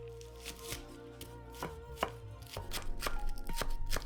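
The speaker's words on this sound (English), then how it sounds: "Slice 1 spring onion." A knife slices a spring onion for hot and sour soup with a series of crisp, close chopping strokes, sparse at first and then speeding into a quicker, steady rhythm.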